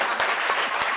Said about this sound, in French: Il a dit que vous applaudissez.